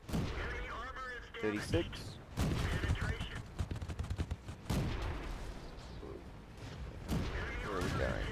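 A tank cannon fires repeatedly in World of Tanks, played with mods. Sharp, punchy shots and rumbling impacts come through in bursts, with someone talking over most of the action.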